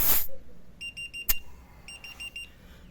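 Two short bursts of rapid high-pitched electronic beeps from a tire pressure monitor alarm reading a sensor at zero, about four beeps each, with a click and a sharp knock between them in a quiet space.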